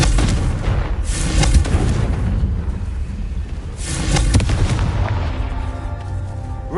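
Confringo explosion spell cast in the video game Hogwarts Legacy: two loud, booming blasts about three seconds apart, each a broad burst that rumbles and fades into the next.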